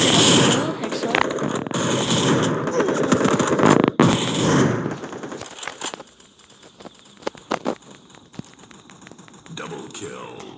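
Rapid gunfire and headshot hits from the Free Fire video game crackle in dense bursts, loud and continuous at first, then thinning into scattered sharp shots with a voice talking over the action.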